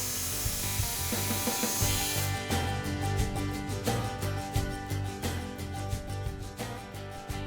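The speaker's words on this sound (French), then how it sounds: "d'insérer la lame de la scie sauteuse et d'ensuite découper avec cette petite lame bois" A jigsaw fitted with a small wood blade cuts into a wooden plank through a pre-drilled hole, its fast reciprocating buzz running continuously with rhythmic pulsing strokes, close and fairly quiet.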